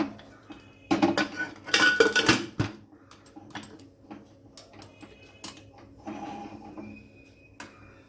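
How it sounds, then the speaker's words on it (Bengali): A metal pressure cooker lid is fitted onto the cooker, which holds washed lentils and two bowls of water, in a home kitchen: bursts of close metallic clattering and clanks, then sparser lighter clicks. "দিয়ে দিচ্ছি দু বাটি জল কুকারের ঢাকনাটা লাগিয়ে দিচ্ছি"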